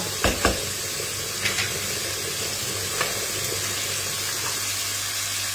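Boiling water poured into a pot of sizzling butternut squash, a steady frying hiss with a few short clatters and stirring knocks near the start, then a continuous bubbling sizzle close by with no talking.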